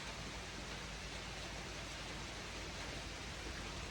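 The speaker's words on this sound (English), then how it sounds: "it's pouring out" Steady, dense hiss of heavy rain pouring down without a break, loud and even throughout.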